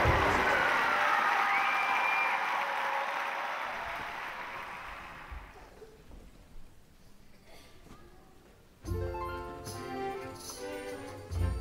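A crowd applauds a choir's performance at a Sing for All Creative Foundations event, with dense, steady clapping for about five seconds that then fades into quieter room sound before voices and music take over.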